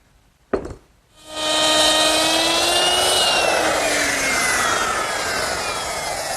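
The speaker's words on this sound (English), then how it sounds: "with my router and a guide collar, I've made all the mortises for the hinges" After a sharp knock, a router with a guide collar spins up to a loud, sustained high whine with a rough cutting texture, its tone dipping as it bites into wood, cutting hinge mortises in a pie safe's door frame.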